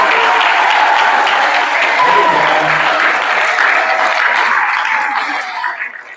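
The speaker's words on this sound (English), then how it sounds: "How about a cheer for that?" School awards assembly audience of 6th graders clapping and cheering in a big room, dense steady applause with a few whoops that fades out toward the end.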